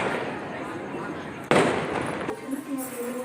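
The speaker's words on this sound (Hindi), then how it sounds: "इतने पटाखे छुटा रहे हैं" Diwali firecrackers and fireworks going off at a household celebration, a continuous crackling barrage with a sharp loud burst midway, followed by further pops and hiss over ongoing background noise.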